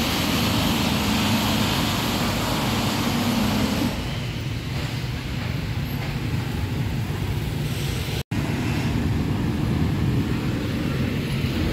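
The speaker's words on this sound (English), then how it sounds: "Look at all the mopeds, motorbikes." A steady, loud wash of engine noise from mopeds and motorbikes in Phnom Penh traffic rolls on without pause, with no voices over it.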